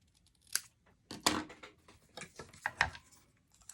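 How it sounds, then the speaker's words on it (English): A Stampin' Up Labels Pick-a-Punch clipping the ends of a paper strip, several sharp close clicks and crunches in irregular succession, quiet and alone. "I'm going to go ahead and just punch the little ends on this to make it a little bit cuter"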